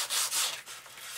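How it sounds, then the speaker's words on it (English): Hand sanding small parts of an F-86 RC airplane model: several quick, soft rasping strokes in a short burst, close and fairly quiet, with no voices. "I'll sand these up just a bit."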